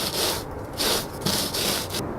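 A float rubbing back and forth across a fresh Rapid Set stucco patch makes a coarse, sandpapery scrape in steady repeated strokes, loud and close with brief gaps between passes and no talking.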